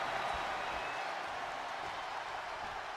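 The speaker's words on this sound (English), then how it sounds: "The sound of this crowd is deafening" Loud, steady roar of a wrestling arena crowd cheering in the WWE 2K24 video game, a dense wash of noise that holds unbroken for about three seconds with no commentary over it.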